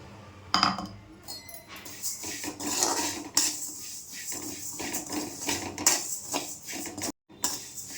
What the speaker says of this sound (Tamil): அதே கடாயில் 100 சீரகம் வறுத்துக்கலாம்.